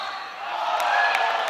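A crowd at a men's college basketball game between Abilene Christian and Sam Houston reacts to a referee's call, a brief rising murmur of oohs and aahs with a couple of faint whistles or squeaks.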